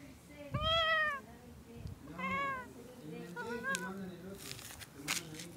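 A person imitates a cat with three drawn-out meows, each softer and shorter than the last, followed by quiet rustling.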